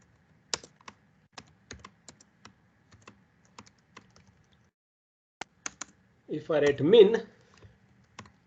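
Computer code is typed on a keyboard in a quiet room, with close, crisp keystrokes clicking in short irregular bursts, paused briefly while a voice speaks a few words, then a couple of final taps.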